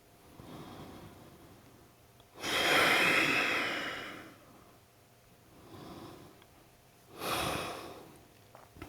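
Two long, audible exhales during a yoga pose, one from about 2.4 to 4.1 seconds and a second near 7.2 seconds, with softer breathing in between. The breath is close and alone, with no talking.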